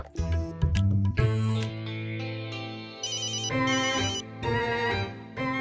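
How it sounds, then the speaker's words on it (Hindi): A telephone ringtone plays a bright electronic melody of repeated tonal notes, loud and close, changing pattern partway through with no talking. "जीनी फोन उठाओ।"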